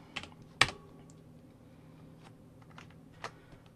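Sparse, close keystrokes on a computer keyboard: one sharp, loud key press, then several softer scattered taps at irregular intervals in a quiet room.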